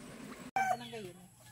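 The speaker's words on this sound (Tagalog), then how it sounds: "Ayan, ang kanya mga manok." Chickens clucking around a rural Philippine home: a short, close burst of clucks and a brief crow-like call follow a sharp break, heard over a quiet outdoor background.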